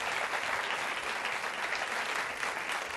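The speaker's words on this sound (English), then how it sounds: "Give him a round of applause to take him back." A studio audience at the British game show Blockbusters applauds continuously, a dense, even wash of clapping from many hands with no talking over it.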